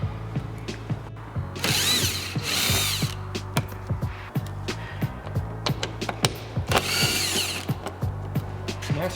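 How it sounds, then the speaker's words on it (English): Power drill or impact tool spinning out the 10mm bolts holding a 2016-2019 Honda Civic headlight, two longer whirring bursts among clicky ratchet-like ticks and clatter, close and loud with no talk. "we're going to remove the two 10mm bolts on each side"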